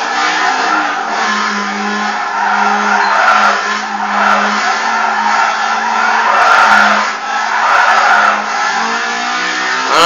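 Car engine revving and tires skidding in the racing game Need for Speed Underground 2, with a loud continuous engine whine and screeching tire squeal throughout, rising and falling over ten seconds with no talk.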